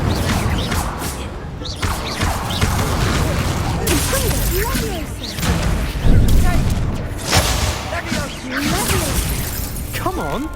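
The Incendio fire spell is cast in Hogwarts Legacy amid a busy fight: repeated bursts of crackling fire, booms and crashes pile up over continuous combat noise and shouted voices, loud and close throughout.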